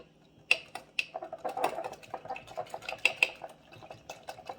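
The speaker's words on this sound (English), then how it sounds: "And I'm gonna use a whisk to get it all combined." A whisk scrapes and clinks against the sides of a bowl, stirring arrowroot powder into a warm homemade deodorant mixture in quick, irregular strokes with sharp metallic taps, close and fairly quiet.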